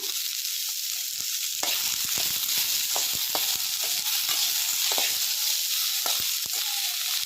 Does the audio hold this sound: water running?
no